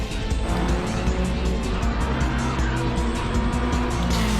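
Renault race car sliding sideways in an aggressive oversteer during an overtake, tires squealing with a rough, sustained screech over a loud, steady engine roar, close and continuous.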